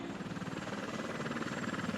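A Kurdish army helicopter used to evacuate inhabitants of Iraqi and Syrian cities and villages throbs with a fairly faint, steady rotor pulse, holding a constant rhythm with no voices over it.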